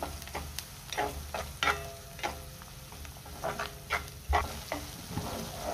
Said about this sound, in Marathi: एक मिनिटभर मी वाटण चांगलं परतून घेतलेलं आहे।